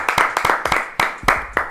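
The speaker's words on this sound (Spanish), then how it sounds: "¡Fuerte aplauso, por favor!" Applause from a small studio audience on a Spanish-language podcast set, sharp scattered claps in uneven bursts, fairly close and moderately loud, with no speech over it.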